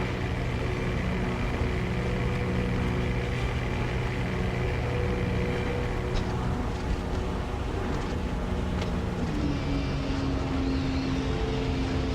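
Approaching bomber aircraft in the flight combat video game Wings of Prey, a steady, dense droning engine roar that holds without a break and shifts pitch slightly near the end.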